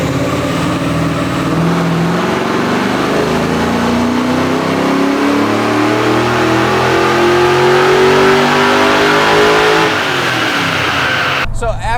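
An LS1-swapped Nissan 240SX pulls hard on a dyno, its engine note climbing steadily through a long, loud wide-open run before abruptly cutting off near the end.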